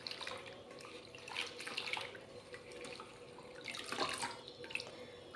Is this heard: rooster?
no